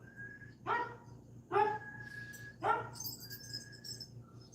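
A dog with mange barks three times at a moderate distance, spaced about a second apart, followed by a faint high whine, over a low background hum.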